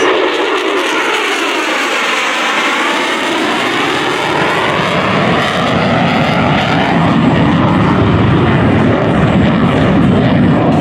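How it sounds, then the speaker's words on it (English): An F-35C Lightning II jet fighter roars past on a knife-edge photo pass at an air show, a loud, continuous broadband engine rush that sweeps through the whole stretch with a shifting, phasing tone as it passes. "From the right, on a knife's edge, the F-35C photo pass."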